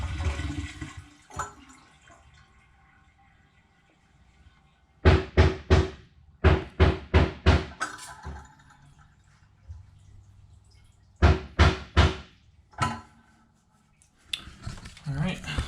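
A toilet flushes during an apartment remodel, water rushing and draining, followed by a series of sharp clicks and knocks from handling the tank and parts, with quiet gaps between bursts.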